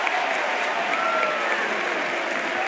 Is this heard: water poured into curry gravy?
no